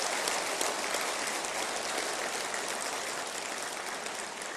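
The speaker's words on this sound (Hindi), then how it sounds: "एक बार उनके लिए भी ताली बजाएं" Audience applause at an official gathering in Rajasthan, a steady wash of many hands clapping, fairly faint and even throughout.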